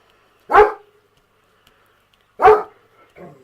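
Two single dog barks, about two seconds apart, close and fairly loud in an otherwise quiet room, followed by a softer short yip.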